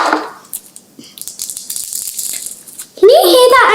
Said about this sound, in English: Can you hear that ASMR? So sizzling.